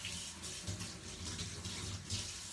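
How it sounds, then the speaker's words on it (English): Running tap water streams steadily as a tablespoon is rinsed beneath it, a continuous close splashing wash with slight surges. "Now I'm going to rinse out my tablespoon"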